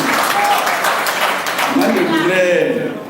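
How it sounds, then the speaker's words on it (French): An audience applauds in a dense wash of clapping, with voices mixed in underneath. "malgré les applaudissements"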